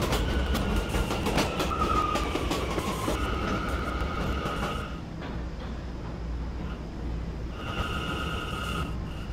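An R179 E train rolls into a subway terminal, wheels clattering and rumbling on the rails with squealing brake tones, then the roar eases as it slows and a high whine rises again near the end.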